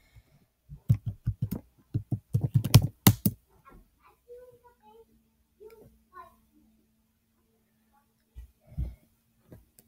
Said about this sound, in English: In this case, it is tetrisc.exe, so you just have to type that in.